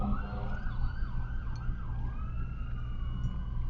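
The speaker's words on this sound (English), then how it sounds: "Sorry about the siren." A wailing emergency siren rises and falls repeatedly in the distance over low traffic rumble, its sweeping tone cycling several times.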